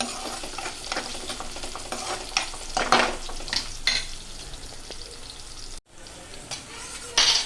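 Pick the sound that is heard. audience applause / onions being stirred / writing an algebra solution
onions being stirred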